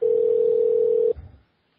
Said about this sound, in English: Well, now it's ringing.